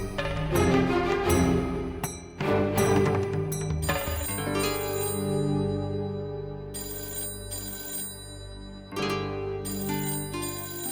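A telephone rings loudly in a domestic TV-drama scene, repeated bursts of an electronic ringtone with short pauses between them, no talking.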